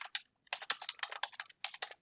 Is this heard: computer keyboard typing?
yes